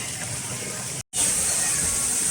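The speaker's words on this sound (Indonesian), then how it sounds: "Inilah suasana alur sungai, kolam paling luar lingkar, banyak anak-anak yang berenang" Water rushes in a steady, loud, hissing wash through the outer lazy-river pool of a water park where children are swimming, broken once by a brief moment of silence.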